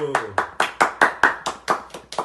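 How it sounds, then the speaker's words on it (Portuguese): Nine or ten crisp hand claps in an even rhythm, close and distinct, welcoming a guest on a podcast, with a voice briefly at the start. "Palmas. Palmas que eu mereço."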